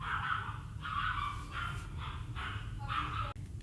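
A dog barks nearby in a steady series of five loud, evenly spaced barks, each with a slightly whining edge, indoors with no one talking.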